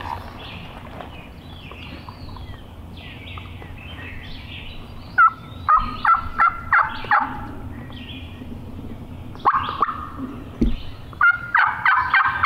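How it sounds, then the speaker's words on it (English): Wild turkey gobbles and yelps ring out in a series of sharp bursts over quiet outdoor background, fairly close. "Hen just yelped down here and he got one there."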